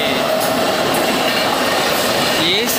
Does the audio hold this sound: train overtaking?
yes